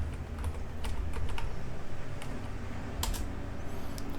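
Rapid clusters of key presses on a computer keyboard as a MySQL password is typed, with irregular bursts of clicks over a steady low background hum, no talking.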